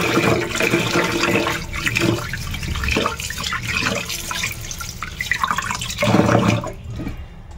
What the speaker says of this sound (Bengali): চালটা ভালো করে 2-3 বার করে ধুয়ে নেব